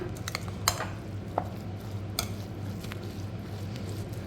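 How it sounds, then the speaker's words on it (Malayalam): Mustard-coconut paste stirred into watermelon rind for a Kerala pachadi produces soft, wet squishing with a few light spoon clicks against the vessel, close and fairly quiet over a low background hum. "അതിലേക്ക് നമ്മൾ കടുക് തേങ്ങ അരച്ച മിക്സ് നമ്മൾ അതിനകത്തേക്ക് ചേർക്കുകയാണ്. നല്ലപോലെ ഒന്ന് ഇളക്കി ഒന്ന് മിക്സ് ചെയ്യാം."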